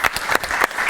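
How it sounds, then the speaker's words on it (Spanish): An audience at a lecture welcomes Esteban Ierardo with brief, close applause, several bursts of clapping in quick succession. "lo recibimos con un fuerte aplauso"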